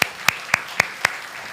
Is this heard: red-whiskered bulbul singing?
no